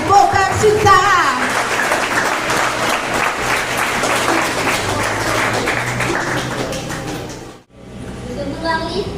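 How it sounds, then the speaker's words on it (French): Audience applause at an eloquence contest, sustained dense clapping for about seven seconds before cutting off abruptly, with a brief quieter patch after and some voices mixed in. "Sous vos applaudissements, s'il vous plaît"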